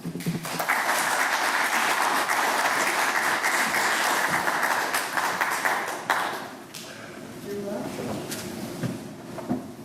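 Audience applause welcoming authors James Gleick and Dan Menaker at a 2017 book festival talk, a dense sustained burst of clapping for about six seconds that fades out, with voices and stage shuffling following.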